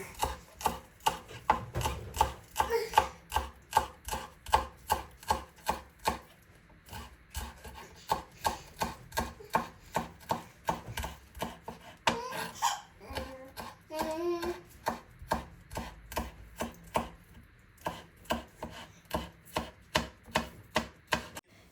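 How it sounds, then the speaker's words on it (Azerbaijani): Steady, rhythmic knife chopping of green onion on a cutting board, brisk even strokes close up, with a brief pause partway through; no talking. "Üzeri içinde göy soğanı doğrayıram."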